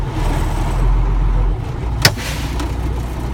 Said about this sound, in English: I'm going to put the vehicle in drive and I'm going to allow it to go forward.